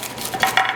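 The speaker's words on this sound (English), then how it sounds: "you want to go in with a knife, a nice serrated knife, once it cools, and just slice down" A serrated knife cuts down through a cooled, crispy phyllo crust on a Greek chicken pie. The close crackling and crunching comes in short bursts with no talking.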